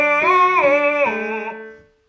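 A trained singer moves quickly back and forth between head and chest voice registers on a sustained vowel, the pitch jumping repeatedly in a few quick shifts before the tone fades out, heard alone and close.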